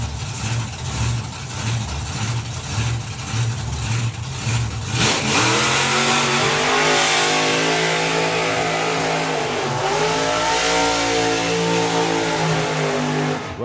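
Drag racing cars at a Dragstalgia strip event do burnouts, engines revving hard and roaring as spinning tyres add a harsh, rising screech. The sound is loud and sustained, with the pitch wavering as the throttle is worked.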